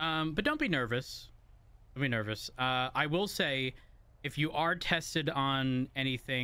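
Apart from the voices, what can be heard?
None of the usual background noises is heard.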